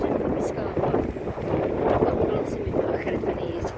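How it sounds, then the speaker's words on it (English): Chilly wind blows at the seaside by a marina near Liverpool, England, a steady loud rushing buffet across the microphone with no break. A voice talks faintly beneath the roar. "I'll have to put my hood up because that wind's chilly."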